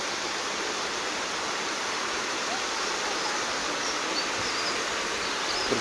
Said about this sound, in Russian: Вот опять под нами назад возвращаемся, горный ручей.